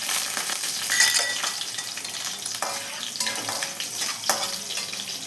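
Garlic sizzles in hot oil with dried red chilli, chana dal, urad dal, mustard and cumin for a tempering, a close, steady hiss broken by occasional clinks of stirring, with no talk.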